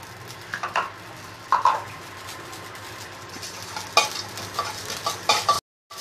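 Mustard seeds and fenugreek dry roasting in a pan with no oil, heard close as a stirring spatula scrapes and rattles through the seeds in short bursts, with a faint crackle between strokes.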